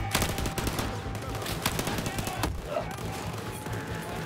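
Dense automatic gunfire in the video game Battlefield 4 rattles in rapid bursts throughout, loud and close, with overlapping shots and impacts.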